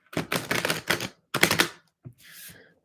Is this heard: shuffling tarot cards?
yes